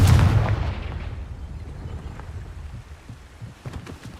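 A Confringo spell explosion in the Hogwarts Legacy video game, a loud booming blast at the start that rumbles and decays over a few seconds.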